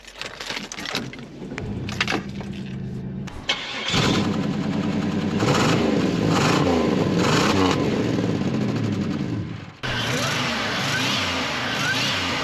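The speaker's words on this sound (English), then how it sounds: "Now we're gonna start the car up right here." A 1990s sleeper car's engine cranks briefly and catches, then settles into a loud, steady idle heard up close, with a short break partway through.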